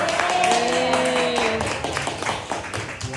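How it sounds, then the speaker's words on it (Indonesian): An audience applauds a speaker after a presentation, scattered hand claps pattering over a sustained tonal, voice-like sound at the start, then thinning into looser, uneven claps. "tepuk tangan untuk Bu Sulawesi"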